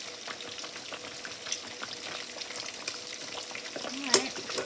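Vegetables cooking down in a pan for cube steak and gravy, giving a soft, continuous frying crackle with light sizzles and a brief clink of stirring near the end, fairly quiet and close.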